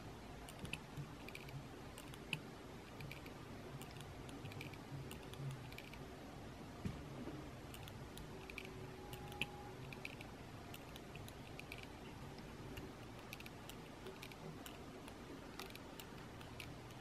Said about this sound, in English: there is a clicking noise when the gimbal is facing down